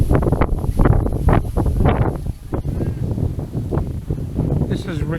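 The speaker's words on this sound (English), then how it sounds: "This very strong wind is an easterly wind" Strong easterly wind buffets the microphone at a carp fishing lake, a loud continuous roar with gusty surges throughout, and someone talks over it.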